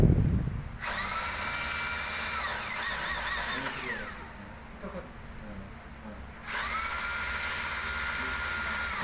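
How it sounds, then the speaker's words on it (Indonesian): Electric drill boring into a masonry wall to mount a bracket for a Samsung 32N4001 LED TV, two loud sustained whining bursts separated by a quieter pause, close by. "Setelah kasih tanda-tandanya semua, baru kita bor ke temboknya"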